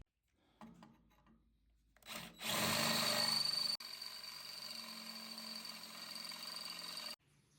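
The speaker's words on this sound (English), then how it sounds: "I'm gonna drill a bigger hole now" A power drill bores into a catalytic converter pipe, spinning up with a sharp, loud metallic whine that holds for several seconds, briefly cuts, then continues at a slightly lower steady drone before stopping.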